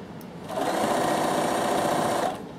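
A Bernina sewing machine runs steadily through cotton fabric for about two seconds, a close, continuous mechanical whir that starts and stops cleanly with no talking.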